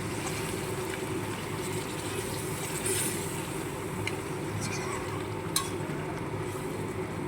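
Reserved pressure-cooker water poured into a pot of browned mutton curry in a village-style kitchen, giving a steady liquid rush and bubbling hiss with a few sharp clinks, continuous and close throughout.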